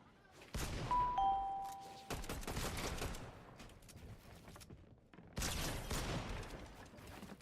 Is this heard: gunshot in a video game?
yes